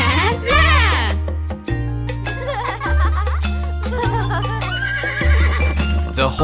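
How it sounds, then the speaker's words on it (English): A horse whinnies in a children's song, the neighs mixed with bouncy music and a sung voice, with clip-clop-like beats throughout. "The horse in the stable says neigh, neigh, neigh."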